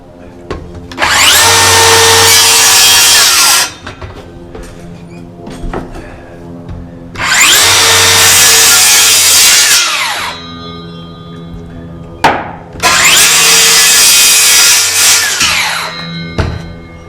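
Plywood being cut with a power saw in three long bursts of loud whining and cutting noise, with brief knocks and handling sounds in the gaps between cuts.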